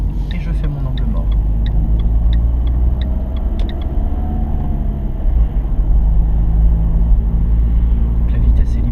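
A car's turn signal ticks in a steady, regular rhythm inside the cabin during a driving lesson on roads near Gex and Divonne-les-Bains, over a constant engine rumble while an instructor talks.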